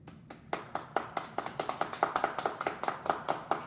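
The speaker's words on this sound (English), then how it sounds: "Let's give them a round of applause." Sparse clapping from a small group on a wine show, individual hand claps ringing out in a quick, fairly regular rhythm, close and distinct rather than a blended roar.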